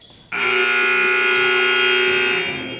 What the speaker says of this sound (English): too late, the buzzer went off